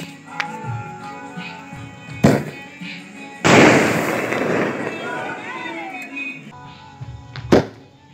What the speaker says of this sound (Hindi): अब चलाते हैं छोटे वाले स्काई शॉट को